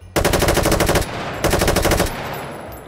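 Two sharp automatic bursts from the Maliuk gun in the VR shooter H3VR, each about a second long, loud and close, separated by a short gap with a fading echo.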